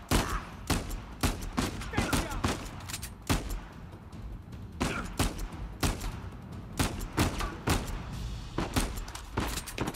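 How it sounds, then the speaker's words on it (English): Gunfire from a gun in the video game Uncharted 4, a dense string of sharp loud shots in quick bursts and singles spread across the stretch, with game background noise between. "Man, this gun is super not accurate, he says as he pulls off a great headshot."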